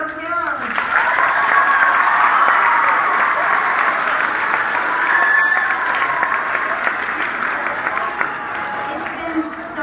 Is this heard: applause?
yes